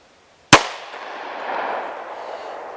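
A single sharp, loud shot from an EAA Witness 10mm pistol, a CZ75 clone, cracks out once at a shooting target. Its echo rolls and fades over the next two seconds.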